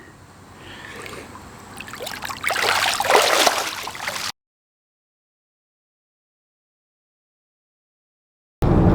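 Running water splashes and trickles as a person rinses off outdoors, rising louder mid-way before cutting out abruptly.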